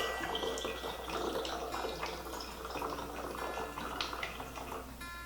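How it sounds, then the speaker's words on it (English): Vodka trickles and splashes as it fills a little bottle over vanilla beans, a steady close liquid pour with faint dripping and no voices. "All you're going to do is take your vodka and fill the little bottle."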